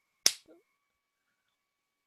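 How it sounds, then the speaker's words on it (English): A single sharp hand clap rings out close and loud in an otherwise quiet room, followed by a faint tail and a tiny click near the end. "now you might be wondering, why do I clap?"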